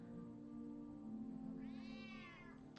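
A cartoonish cat meows once in the video game Cottage Garden, a clear rising-and-falling mew over a quiet steady hum of background music.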